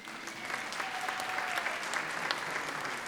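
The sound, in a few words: round of applause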